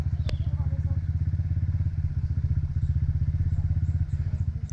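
A motorcycle on a dirt trail holds a steady, loud, fast-pulsing engine note throughout, close by, with a brief sharp click near the start.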